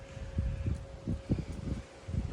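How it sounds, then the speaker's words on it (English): Strong wind blows through trees on a farm under a clear sky. It makes a low, rumbling, gusty rush with rustling surges, partly buffeting the microphone. "Very windy, but clear blue sky. Not a cloud in sight, but the trees are going."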